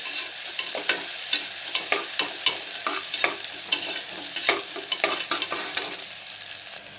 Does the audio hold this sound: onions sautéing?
yes